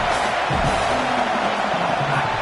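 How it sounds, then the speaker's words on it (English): A home crowd at an Alabama college football game against UCLA roars steadily and loudly, a dense unbroken wash of cheering and shouting that fills the whole stretch without letup. "how nice is it to have the home crowd going absolutely bananas?"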